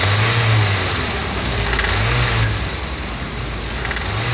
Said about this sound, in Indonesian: Bunyinya masih ngelatak ya bro ya